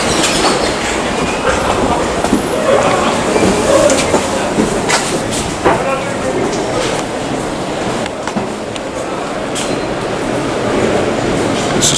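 A 7 subway train rumbles steadily along the tracks at 69th Street station with a continuous clattering roar, occasional screeches and clicks of wheels on rails, loud and close throughout.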